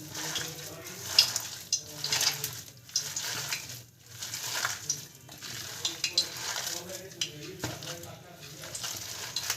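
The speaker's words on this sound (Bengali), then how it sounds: "বাঁধাকপিটাও দিয়ে দিচ্ছে মা ভালোভাবে মেখে নিচ্ছে" Cabbage pakora batter with chopped cabbage, onion and coriander is mixed by hand in a bowl, making soft, wet squelching and stirring sounds in uneven strokes, close and quiet, with a voice talking over it.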